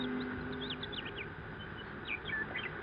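Birds call and chirp over a seaside cliff as a radio drama sound effect, with quick high sweeping twitters in two bursts over a steady low hum and no voices.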